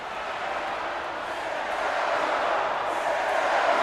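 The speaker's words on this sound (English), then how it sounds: "The crowd here in Chicago on their feet." Arena crowd in WWE 2K23 cheering during a wrestling show set in Chicago: a steady, dense roar of many voices that holds at an even, loud level throughout with no pauses.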